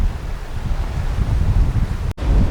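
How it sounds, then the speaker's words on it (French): Heavy rushing wind and surging water roar continuously around a sailboat pounding into waves in the Grenadines, with a sudden brief dropout near the end. "Ça faisait longtemps qu'on ne s'était pas fait secouer comme ça"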